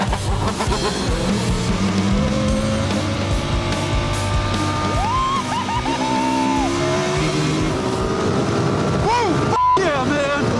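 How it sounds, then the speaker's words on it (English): Shifter kart accelerating hard and then braking: a loud, high-revving engine drone with rising and falling pitch and a brief tire squeal, with voices heard over the engine. "The shifter cart will go from 0 to 60 and back down to 0"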